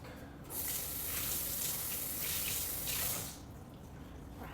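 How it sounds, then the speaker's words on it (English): A kitchen sink tap runs hard as items are rinsed under it, a bright steady gush of water that starts, holds for a few seconds, then cuts back to a quieter trickle, no talking. "Let me rinse all of this stuff out real quick."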